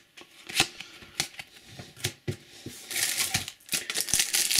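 Match Attax SPFL 2015 trading cards from Topps booster packs being flipped and handled, a series of sharp papery snaps and shuffles in uneven rhythm, close and fairly loud, with a denser crinkling stretch toward the end and no talking.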